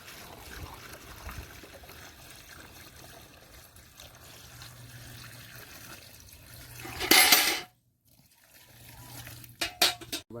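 Water pouring in the Minecraft video game, a soft continuous trickle that swells into a brief, louder splashing burst before cutting out, with a few short splashy sounds afterward.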